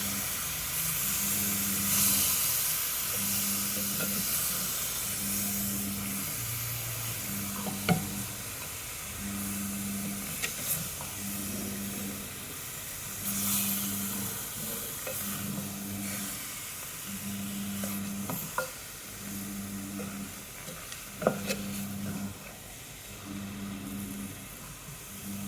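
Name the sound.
stirring chicken curry in a pan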